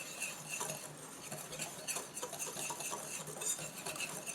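Dry ingredients of flour, baking powder, cinnamon, salt and baking soda stirred in a bowl for carrot cupcakes, giving quiet, continuous scraping and light tapping of a utensil against the bowl.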